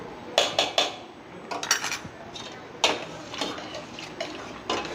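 A spoon scrapes and clinks against a pan while pasta is stirred with ghee, sharp metallic taps in small clusters over a soft background hiss, close and fairly loud.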